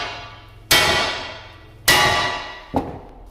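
Three sharp metallic hammer strikes on a Royal Enfield Himalayan's sheet-metal sump guard, each ringing briefly and decaying, the last one lighter, close up with no talking.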